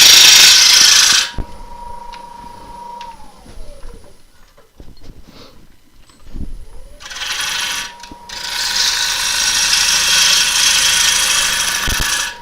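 A wood lathe spins at 800 RPM while a blank is roughly turned to shape, with loud bursts of tool cutting at the start and end and a quieter mechanical hum and scraping between.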